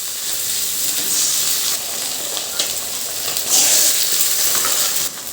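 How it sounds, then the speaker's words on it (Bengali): Two eggs fry in a wok, giving a steady, close sizzle and crackle with occasional louder spits that run throughout, with no talking. "ডিমগুলো কড়াইয়ের মধ্যে ভেঙে দিয়ে দেবো।"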